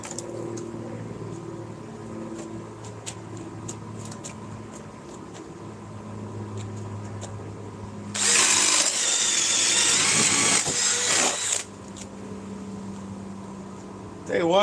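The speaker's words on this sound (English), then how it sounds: "these batteries got some power, this drill's got some power, and these bits are all brand new" A cordless drill with a 3.5 power stack battery and brand-new bits whirs loudly for about three seconds of driving. Quieter workshop noise and voices surround the burst.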